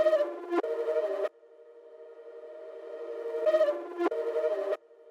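Flipped melody sample in a beat, sparse synth-like tones holding sustained notes with short plucked bursts separated by a long quieter stretch, clean and close.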